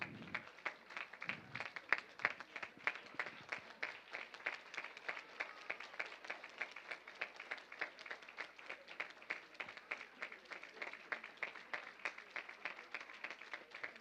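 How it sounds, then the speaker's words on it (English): A gathered audience at a community cultural program gives a round of applause, a faint, distant patter of many hands clapping steadily throughout with a couple of low thumps early on. "please rise and give them a big round of applause"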